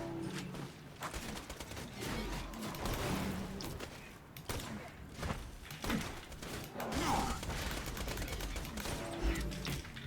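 Rapid SMG bursts in Borderlands 2, sharp cracks repeating in uneven clusters across the whole stretch, loud and close with some thuds mixed into dense game action.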